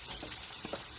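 Cabbage, carrot and thyme stir-frying in a pan, a soft continuous sizzle with faint stirring scrapes, quiet and steady throughout a brief moment.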